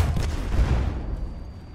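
An anti-tank mine explodes in the World War I shooter Battlefield 1, a deep, rumbling boom that decays over under two seconds with no talk over it.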